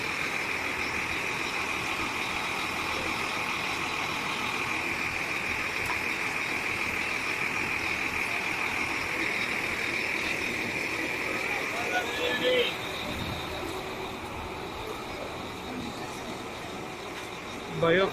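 A TSRTC Garuda Plus Scania intercity bus engine runs in a steady, continuous drone with a constant tonal hum. It changes slightly and eases off toward the end, and a voice speaks over it at times.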